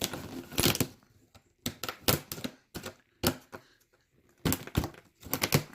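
Sharp crackling rips of packing tape peeled off a box in several short bursts, close up, with quiet pauses between pulls.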